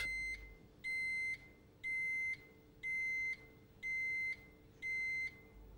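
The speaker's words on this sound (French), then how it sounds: "Le bruiteur émettra 3 bips si les conditions initiales ne sont pas remplies." The warning buzzer of a Renault Megane cabriolet's soft-top roof system sounds six even, evenly spaced electronic beeps, a clear mid-high tone repeating about once per second in quiet surroundings.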